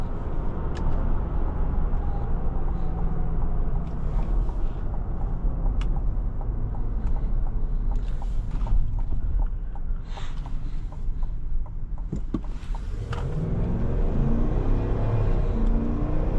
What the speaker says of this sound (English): I'm gonna put it in sport mode. The V8 sounds pretty good.